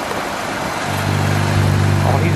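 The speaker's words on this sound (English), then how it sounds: "We can get some revs?" A car engine at close range climbs from idle into a loud, steady rev, holding a deep, rough drone over a noisy background.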